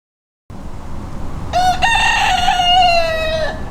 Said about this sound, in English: Those cockerels had us up at 5 o'clock this morning.